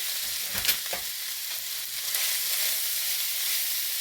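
Leftover chicken browning in a pan gives a steady, dense sizzle and crackle, close up, with a couple of soft scrapes early on and no talking.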